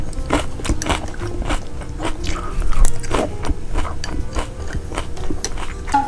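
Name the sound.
eating a salad, chewing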